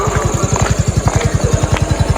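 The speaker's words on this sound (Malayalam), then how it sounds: "നമ്മൾ സ്കൂട്ടി എടുത്തിട്ട് തന്നെ പോന്നിട്ടുണ്ടായിരുന്നു അമ്പലത്തേക്ക്." A scooter engine runs steadily close by, putting out a fast, even put-put pulse at a constant speed with no talking.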